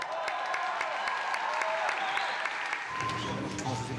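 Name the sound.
symphony orchestra applauding the band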